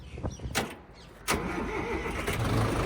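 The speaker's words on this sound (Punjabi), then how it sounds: "ਦੇਖੋ ਬਾਈ ਟਰੈਕਟਰ ਦੀ ਸਟਾਰਟਿੰਗ" A Sonalika 65 hp CRDI tractor engine starting: a couple of sharp cranking bursts, then the diesel catches and settles into a steady, close, rumbling idle.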